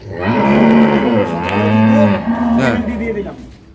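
Dairy cows moo loudly nearby on a farm, a few long low calls following one another with short breaks, no talking.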